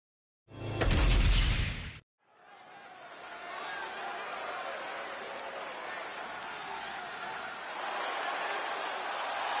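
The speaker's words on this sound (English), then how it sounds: "The crowd on their feet." Video game arena crowd in WWE 2K25 roaring steadily after a loud burst, a broad sustained cheer that swells toward the end, with a commentator talking over it.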